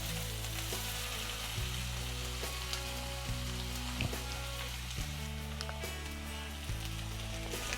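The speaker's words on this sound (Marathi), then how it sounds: "आता हे कांदे सुद्धा आपल्याला चांगले लाल सोनेरी होईपर्यंत परतून घ्यायचे" Finely chopped onions sizzle steadily in a hot pan for egg bhurji, a close, continuous crackle and hiss with occasional stirring scrapes and no talking.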